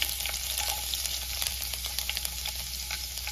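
Garlic, mustard seeds and cumin sizzle in two spoons of hot oil in a kadhai on a gas stove, a dense, steady crackle with fine popping throughout, close up and without talk.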